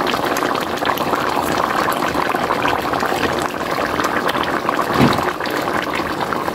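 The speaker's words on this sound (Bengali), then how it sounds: "চুলার জালটা মিডিয়ামে দিয়ে আমি রান্নাটা করে নেব।" Egg and potato curry bubbling in a pot on a stove over medium heat: a continuous simmering and bubbling sound with a few soft clinks, and no talking.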